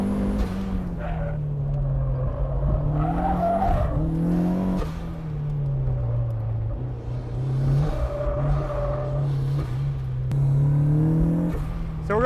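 A turbocharged Mazda Miata on a warm-up lap at Lime Rock, its engine droning steadily from inside the car with rising and falling revs through gear changes and a constant loud road roar.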